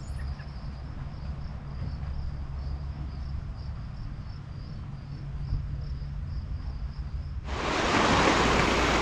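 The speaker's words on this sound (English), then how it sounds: "This trail is called the Fremont River Trail, and here is the Fremont River." Fremont River in a gorge in Capitol Reef National Park, a steady low rush of flowing water with a faint high insect-like hiss above, then a louder broadband surge of water noise near the end.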